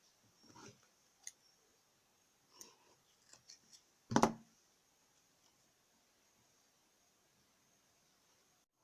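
Scissors snip through crochet yarn, a few faint clicks followed by one sharper close cut, then quiet.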